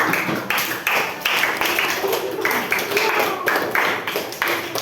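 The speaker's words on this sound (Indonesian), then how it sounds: "Sekali lagi tepuk tangan atas persetujuan kita." A class claps hands in a burst of dense, irregular applause that lasts several seconds, close and fairly loud.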